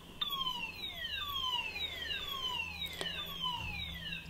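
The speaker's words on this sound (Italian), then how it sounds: "Ovviamente ho capito che era l'allarme" A building alarm in Zurich wails in repeated falling electronic sweeps, each about a second long, steady and moderately loud, with a faint low hum beneath and no announcement voice clearly standing out.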